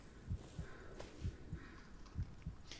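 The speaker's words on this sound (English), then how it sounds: "You can hear the heartbeat." Faint, muffled heartbeat in the Blair Witch horror game, paired low thumps repeating at a steady pulse about four times over a quiet ambient hum.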